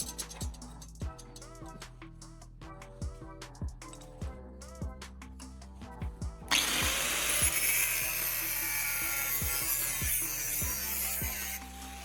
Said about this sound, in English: Afterward, I cut the tubing into a small block.